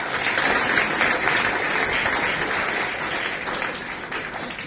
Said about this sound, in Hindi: या अब ताली बजा सकते हैं